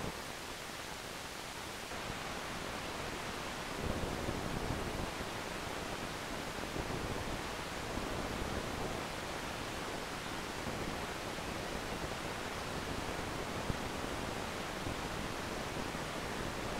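Algorithmically synthesized noise that resembles pink or white noise, a steady broadband hiss lasting the whole stretch with faint shifts in texture, continuous and even with no voices.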